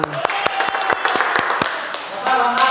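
Students in a classroom clap their hands in a quick, regular rhythm of about a dozen sharp, close claps, followed by a burst of voices and looser clapping at the end.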